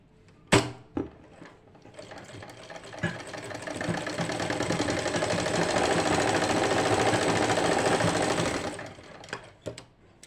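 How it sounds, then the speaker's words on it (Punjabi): A sewing machine stitches pleats on a lined shirt, starting with a few clunks, then running in a steady close rapid whirring rattle for several seconds before slowing and stopping with more clicks. "ਇਹ ਆਪਾਂ ਸਾਰੀਆਂ ਪਲੋਈਆਂ ਦੀ ਸਿਲਾਈ ਕਰ ਲਈ ਹੈ"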